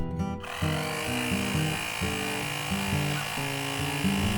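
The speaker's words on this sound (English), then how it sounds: "just tap the power button to get the compressor started." An Interphone 4000mAh mini air compressor pumps up a tyre with a steady, close, buzzing motor hum that shifts in pitch in stepped intervals and runs continuously throughout.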